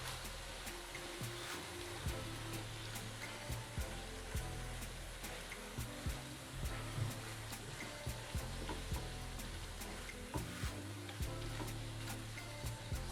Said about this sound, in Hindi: स्पाइसेस को कीमे के साथ मिक्स करेंगे ताकि जो मसाले हैं उस तरह से कीमे को लग जाए।